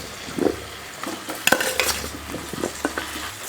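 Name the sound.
stirring boiled potatoes frying in spiced oil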